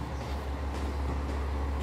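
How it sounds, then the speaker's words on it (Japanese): Harada Line train arriving at a station platform, a steady low rumble with continuous broadband rail noise at moderate level, no clear talking over it. "はい、春田線の列車です。"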